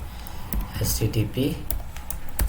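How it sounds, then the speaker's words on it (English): Fingers type on a computer keyboard while entering a localhost web address for a Spring Boot server, producing quick, close clicks and taps under a man's speech. "I'm just typing"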